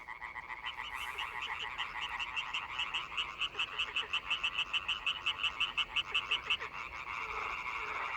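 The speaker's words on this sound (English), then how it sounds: "The vocalizations of the males then mix in a great polyphonic chorus of amphibians who sing at night until the morning." A chorus of male frogs calls at night, a dense, steady stream of rapid pulsed croaks overlapping close by, swelling into a rhythmic trilling pattern before easing off near the end.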